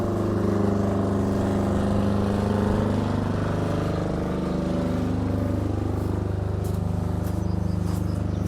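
A generator runs at a grain storage site, a loud continuous engine hum with steady low tones that sag briefly midway and then hold even, no speech over it.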